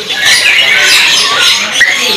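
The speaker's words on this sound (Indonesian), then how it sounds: "burung cucak Rowo yang sudah gacoran" Bird kiosk full of caged straw-headed bulbuls (cucak rowo) in full song, a dense, continuous wash of loud chirping and warbling calls close by, with other birds chattering throughout.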